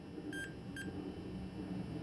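Two short electronic beeps from a multimeter in continuity mode, tested along a notebook keyboard's membrane circuit trace. The tones come close together near the start, then the rest is steady background hum with no talking.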